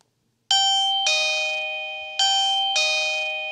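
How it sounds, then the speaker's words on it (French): A clear wireless video doorbell chime plays a two-tone ding-dong twice, each note ringing and slowly fading, with silence before the first press. "Ici, si j'appuie sur ma sonnette,"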